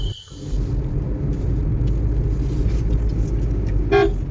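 Busy road traffic on the way to Thusharagiri waterfall in Kerala, with a steady engine rumble throughout and a loud car horn toot near the end, close by.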